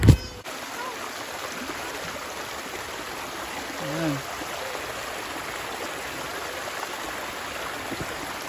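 A river flows nearby in a steady, broad rushing wash that continues unbroken throughout, with a brief voice near the start.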